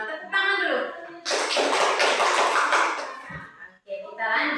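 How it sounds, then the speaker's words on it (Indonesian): Schoolchildren clapping their hands together in a classroom, a burst of mixed clapping lasting a couple of seconds between stretches of a voice talking. "Tepuk tangan dulu."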